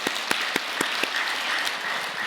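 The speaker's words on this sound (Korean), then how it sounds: "귀한 축도를 해주신 주의 네 분께 감사의 박수를 올려드리겠습니다" A crowd at a blessing ceremony breaks into brief applause, sharp claps at first, then settling into a steady wash of clapping.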